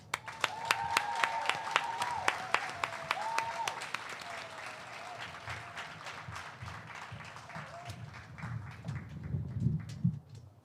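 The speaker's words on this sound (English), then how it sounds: "let's give a warm applause for Miss Fountain" Warm applause at a middle school promotion ceremony for the Class of 2021, greeting a teacher; sparse distinct claps over a tonal hum and low room noise, thinning toward the end.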